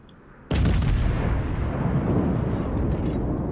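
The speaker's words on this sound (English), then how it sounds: "I'm going to put out some shots on this corvette" Naval guns of the British battleship HMS Bellerophon fire in World of Warships, one sudden loud booming blast that rolls on into a long, heavy rumbling decay.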